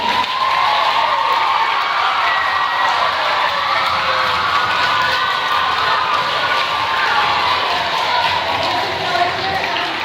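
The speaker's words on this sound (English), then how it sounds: "let's give them another round of applause." A school audience at a leadership day play gives sustained applause and cheering, with children's shouts and whoops in a loud, continuous crowd roar throughout.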